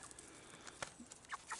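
Sapphire splash hens in a backyard coop give a few short, faint clucks close by. Soft rustling and scratching sounds run beneath the calls, and nobody speaks.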